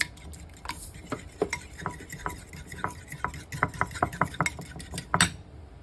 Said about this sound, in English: a fork to whisk it together